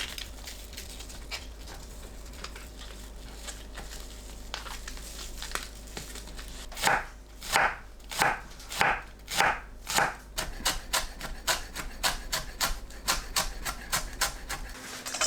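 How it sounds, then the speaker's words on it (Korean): A kitchen knife julienning Korean green onions (daepa), rolled up and sliced on a cutting board, in a run of crisp, rhythmic chops that grows louder and more regular partway through after a quieter start. "파를 채 썰어줍니다."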